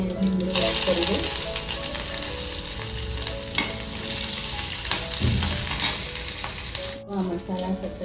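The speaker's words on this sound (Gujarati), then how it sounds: "હવે આની અંદર હું આ બધા મસાલા એડ કરીશ. પછી આ આદુ, મરચાં અને લસણ અને લીમડો એડ કરી દઈશ." Spices, ginger, chillies, garlic and curry leaves crackle and sizzle in hot oil for a palak kadhi, a close, busy frying hiss with stirring clatter and scattered pops throughout.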